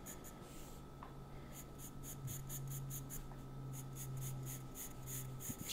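A pencil scratches lines on paper in a series of short, rhythmic strokes, faint and close, with soft breathing in the background and no speech.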